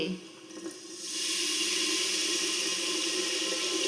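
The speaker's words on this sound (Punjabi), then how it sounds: "ਹੁਣ ਆਪਾਂ ਥੋੜਾ ਜਿਹਾ ਚ ਪਾਣੀ ਪਾਵਾਂਗੇ ਤਾਂ ਕਿ ਮਸਾਲਾ ਚੰਗੀ ਤਰ੍ਹਾਂ ਭੁੱਜ ਸਕੇ" Water splashed into hot frying masala for aloo gobi, starting with a soft clink and rising after a second into a loud, steady sizzling hiss that holds to the end.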